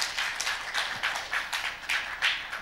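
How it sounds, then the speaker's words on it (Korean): Audience at a Korea peace symposium in Busan applauding after a special dialogue, a steady wash of many hands clapping with rhythmic swells throughout, dense and fairly close. "다시 한번 큰 박수 부탁드립니다"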